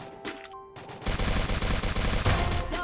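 Enemy gunfire in a shooter video game: after a short quiet lead-in, rapid sustained automatic fire erupts, dense and loud, continuing to the end.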